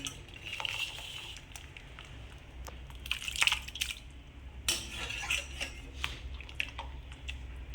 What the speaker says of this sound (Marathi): आता बटाटे शिजून गेलेले, आता त्याला ना गार पाण्यात टाकून घेऊया।